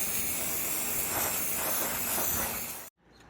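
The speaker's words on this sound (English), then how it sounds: "I'm going to use this Rust-Oleum Bright Reflective Finish, spray the front and the back" Rust-Oleum Bright Reflective Finish spray paint hisses from an aerosol can in one steady, close, continuous burst, coating a vintage RCA drive-in speaker, and then cuts off abruptly.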